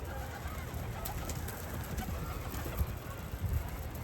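A Mardin pigeon coos softly over a steady background hum, with a few low cooing notes standing out faintly near the end.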